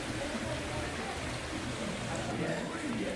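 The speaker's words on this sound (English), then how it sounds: "today it is indeed raining" Rain falls steadily at a beach resort in Riviera Maya, a soft, even hiss of drops with no break, faint and spread out like rain on a covered walkway.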